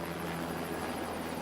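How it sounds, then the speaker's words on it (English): A helicopter filming over Dubai near the world's tallest building gives a constant, steady rotor and engine roar throughout, heard from a moderate distance with no talk. "The helicopters can only stay in the air about half an hour."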